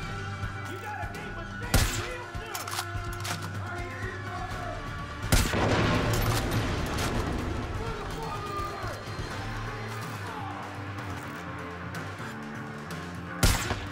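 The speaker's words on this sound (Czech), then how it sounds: "Děláme pár výbuchů" Explosions and gunfire in the video game Far Cry 5 crackle and thump in a dense battle mix, with sharp bangs around two and five seconds over constant game music and rumble, continuing steadily throughout.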